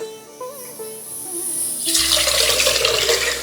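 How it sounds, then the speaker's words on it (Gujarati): Rice being washed with clean water, starting with quiet background tones before a loud, close rush of running tap water and splashing that fills the last second and a half. "સાત આઠ ચોખ્ખા પાણીથી ચોખ્ખાને ધોવા જરૂરી છે"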